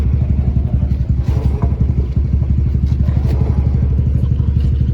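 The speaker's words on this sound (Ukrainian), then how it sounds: "Зараз мотоцикл працює." A motorcycle engine runs steadily and close during servicing, a loud continuous rumble with a rapid mechanical clatter throughout, a noise that bothered the owner.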